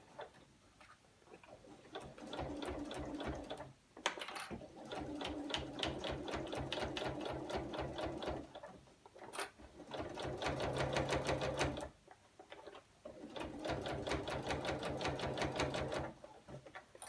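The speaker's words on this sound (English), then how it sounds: "So stitch down along the top side of the lining fabric." Sewing machine fitted with a zipper foot stitching along the top of lining fabric on a zip pouch, running in several long bursts of rapid, steady mechanical ticking separated by short pauses.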